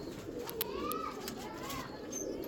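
Ferozpuri pigeons coo softly in a loft, the low murmuring calls partly buried in steady background noise and faint human activity.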